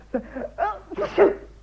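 A sneeze in a BBC Saturday Night Theatre radio drama, a short breathy intake and sharp burst in a few pulses, close and clear with no other sounds.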